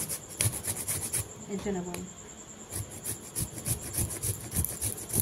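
Papaya is grated on a hand grater with quick, rhythmic rasping strokes close by. The grating pauses briefly while a voice speaks, then resumes in repeated scraping bursts.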